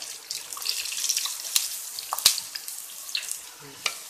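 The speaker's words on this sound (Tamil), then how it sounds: "வெங்காயத்தை நல்லா வணக்கணும்" Onions frying in a pan with red chillies and curry leaves for tomato chutney, a soft crackling sizzle with scattered sharp pops and the scrape of stirring, close by and alone.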